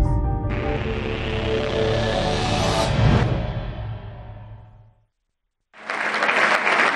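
Audience applause: a dense, loud burst of clapping that swells, then thins out and fades to silence, before a fresh round of clapping starts up again at the end.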